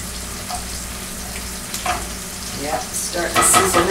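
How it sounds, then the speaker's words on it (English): Anchovies and garlic sizzle gently in a hot pan with a steady crackle, and the sizzle grows louder and busier toward the end as they are stirred. "Yep, starting to sizzle now."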